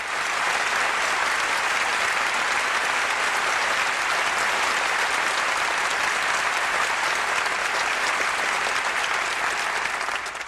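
An auditorium crowd gives Mr. Deedat, Sheikh Ahmed Deedat, a long, even round of warm welcoming applause at a Bible debate, dense and uninterrupted clapping that holds at a constant level.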